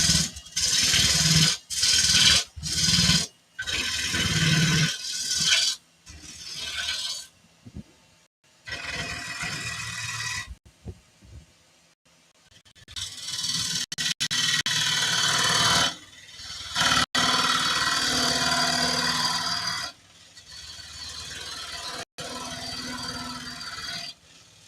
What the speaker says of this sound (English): Now I can take the tenon off and I can slow the lathe down to a more sensible speed to do this.